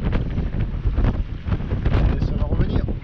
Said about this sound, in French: Du vent souffle.